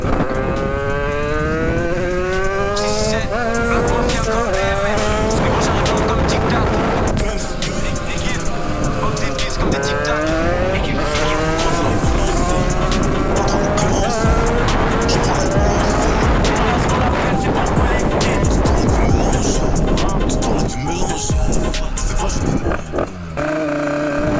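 A small 50cc moped engine, bored out to 100cc, revs loudly and close, its whine climbing and dropping in repeated pushes, with a voice speaking now and then.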